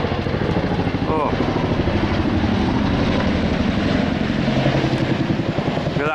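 A large Chinook helicopter flies over a farm, its heavy, continuous rotor throb and engine roar loud and steady throughout, with a voice faintly beneath it.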